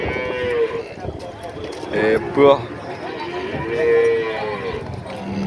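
Cattle moo loudly and repeatedly at a busy cattle market in Pasar Pahing, Nganjuk, with drawn-out bellows rising over constant crowd chatter and nearby voices talking throughout.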